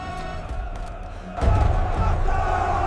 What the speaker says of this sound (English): It feels like nobody can calm this crowd anymore.